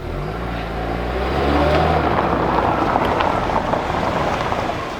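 A green Volkswagen Golf accelerates hard along a home driveway, its low engine drone swelling into a loud, rushing roar that holds steady, with no talking.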